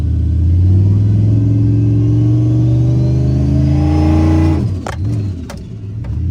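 Chevy pickup V8 engine revving hard against the brakes during a brake boost, a loud steady rumbling drone rising to about 3,500 RPM, then dropping off abruptly with a few clunks as it is released.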